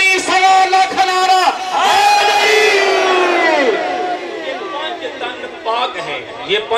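A large religious gathering chants slogans in unison, with loud rhythmic shouted voices rising and falling in waves, plus a solo voice leading and some background chatter between the responses.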